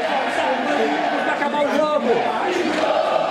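ECDER football supporters shouting and chanting in the stadium during a final against EC Palestrinha, a dense crowd roar with rising cries and surges, voices mixed throughout.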